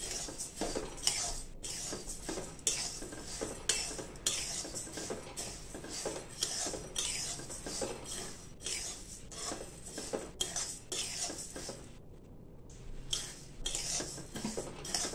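Coriander seeds roast in a pan on low-medium gas, stirred continuously with a utensil that scrapes and clinks against the metal in a steady, close rustle with no talking.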